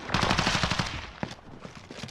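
Rapid automatic gunfire in Call of Duty: Modern Warfare on the Shoot House map, a loud burst of repeated shots followed by a couple of single cracks, with no talking.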